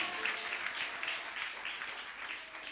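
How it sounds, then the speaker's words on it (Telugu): A church congregation at Sunday worship claps loudly in a steady, continuous burst of applause lasting a few seconds, fairly distant and even in level. "కొట్టు గట్టిగా చప్పట్లు."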